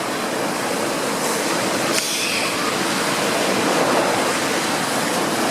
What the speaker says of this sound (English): so finally made it to the beach